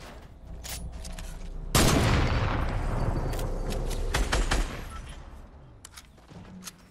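Gunfire in the Fortnite video game, including sniper shots, bursts out in a loud barrage of overlapping shots with a sharp onset, then settles into scattered quieter shots near the end.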